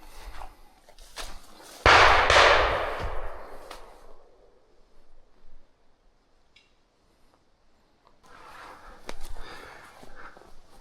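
A single loud gunshot cracks outdoors during a gamebird hunt in Sweden, then its echo rolls away into quiet before faint rustling returns.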